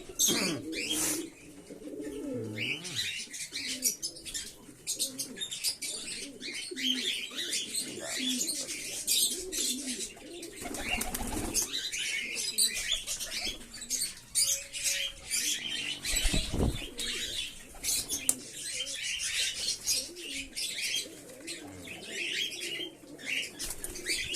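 Large pigeons feed on wheat in the morning, with steady cooing, scattered wing flaps and bursts of flapping throughout, close and busy, with occasional chirps and a brief voice.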